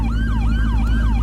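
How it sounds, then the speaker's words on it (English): A police car siren in the Roblox video game wails in a steady, repeating up-and-down sweep, loud and close, with no talking over it. "Listen to the sirens."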